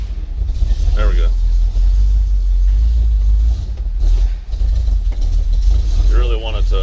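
A 1968 International Harvester Travelall engine idles cold after starting, with a deep, steady, loud rumble. A voice speaks briefly over it near the start and again near the end.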